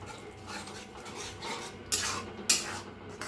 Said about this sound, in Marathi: गॅस एकदम बारीक करूनच दही मिक्स करा